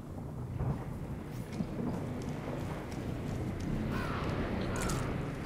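A surge storm in the game Synced roars with continuous heavy wind and low rolling thunder, a steady, loud broadband rumble that never lets up.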